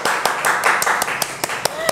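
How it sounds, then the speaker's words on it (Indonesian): Brief hand clapping for a guest on a podcast, a dozen or so sharp, evenly spaced claps under continuous talk. "tepuk tangan dong untuk Lubna"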